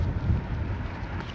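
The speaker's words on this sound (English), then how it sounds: "It is really windy" Strong wind gusts buffet the microphone on an exposed remote island, a steady low rumbling roar that fills the short moment without a break.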